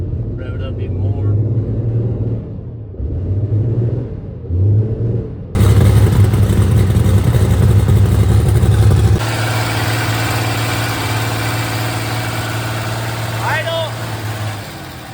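A Cummins diesel truck engine, running on fuel contaminated with gasoline, idles roughly with a steady low throb, then jumps louder as it is revved up and holds a harsher, higher-pitched roar for several seconds before settling to a loud, steady run.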